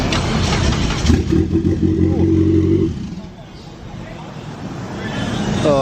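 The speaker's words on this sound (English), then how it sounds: "I hear the turbo spooling up." Turbocharged Mitsubishi Lancer engine cranking and starting, rough revving with a near, loud roar that fades after a few seconds while voices are heard in the background.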